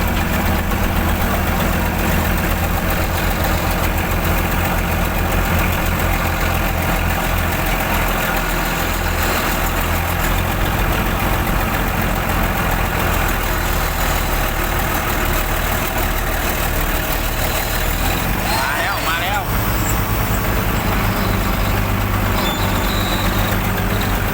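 Heavy recovery trucks of 50 and 25 tons strain their engines together while pulling, producing a loud, continuous low diesel roar that holds steady throughout with no talk.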